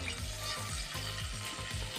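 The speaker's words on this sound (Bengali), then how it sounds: "তো শঙ্কর মাছটাকে যে লাল লাল করে একেবারে ভেজে নিচ্ছি।" Stingray fish pieces frying in oil until reddened, a steady close sizzle and crackle of hot oil with a faint recurring scrape running underneath.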